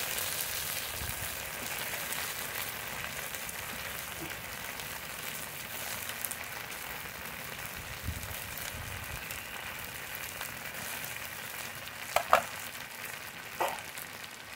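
Pieces of Bhola fish are laid onto spice masala frying in a pan. A steady frying hiss runs throughout, with a couple of brief clatters near the end and no talking.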